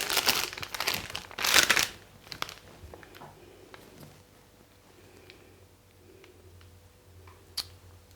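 A piping bag of buttercream for rose cupcakes is twisted and tightened, giving loud, close crinkling bursts in the first two seconds, then only sparse small rustles and ticks in a quiet room.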